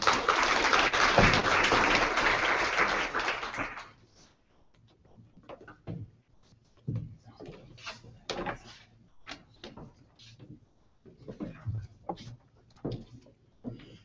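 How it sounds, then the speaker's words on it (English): A short burst of full audience applause at a talk on suicide prevention fades out after about four seconds, followed by quiet room noise with scattered thumps and light handling sounds. "Ladies and gentlemen, round of applause."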